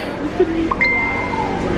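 A phone notification chime: a few short bright pings followed by a sustained ringing tone, heard under the murmur of nearby voices.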